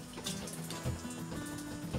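Water rushing steadily while rinsing out an RV black tank, a continuous splashing flow with a low gurgle underneath.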